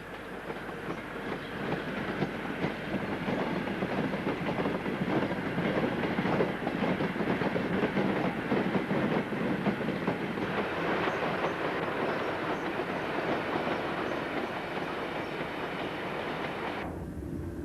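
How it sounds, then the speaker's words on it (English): A merry-go-round freight train runs along the Woodhead line, its wagons rumbling and clattering in a continuous loud roar with rhythmic wheel clicks, close by throughout and easing slightly toward the end. "another merry-go-round working has been recorded on film"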